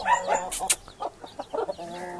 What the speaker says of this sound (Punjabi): ਲਓ ਜੀ ਬਾਈ, ਇਹ ਵੱਡਾ ਮੁਰਗਾ ਜੇ